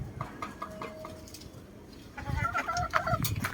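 Chickens of a fantastic bulik line clucking in a backyard, soft and fairly distant, a few scattered calls rising toward the end over a quiet hum.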